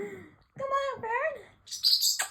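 Feisty pet parrotlet giving a few bright, high chirps near the mic, with rising and falling whistled call notes and a sharp squeak at the end.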